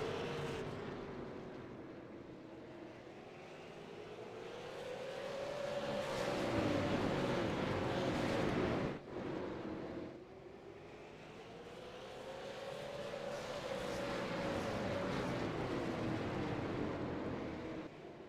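Late model race cars at Hickory Speedway roar past in waves, their engine note rising and falling as the pack approaches and recedes, with a brief dip midway before the next loud pass.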